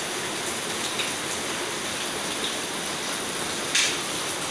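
Heavy rain falls steadily during a flood in Pesanggrahan, a dense, even hiss that fills the clip, with no talk.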